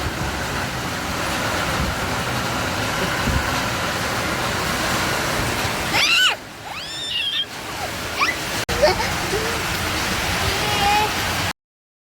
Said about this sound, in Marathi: पाऊस आणि वादळ खूप मोठं चालू आहे